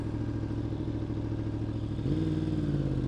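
A Yamaha R1M motorcycle engine drones steadily on a ride, then its pitch steps up and holds at a higher, louder hum partway through. No one speaks.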